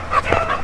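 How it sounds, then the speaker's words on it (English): Dogs at the KSPCA animal shelter in Kenya give a brief burst of yips and whimpering barks, close by against a busy background. "very happy dogs"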